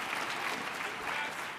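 An audience at a plenary presentation of a quality forum applauds in a dense, continuous patter of many hands that fades slightly toward the end.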